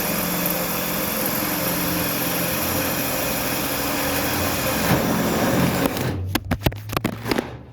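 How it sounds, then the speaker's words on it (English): A DeWalt power drill bores through the sheet-metal hood of a 1929 Chrysler, a loud, steady high-pitched motor whine that runs unbroken, then stops, followed by a few sharp clanks and knocks. "DeWalt drill to go through this stuff."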